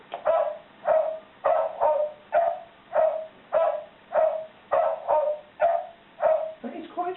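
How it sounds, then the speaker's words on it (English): A talking calendar clock's alarm plays a dog barking repeatedly in a steady, rapid rhythm, about a dozen sharp, loud barks close by, ending with a softer whine. "Strange for an alarm, and the way it has a dog barking."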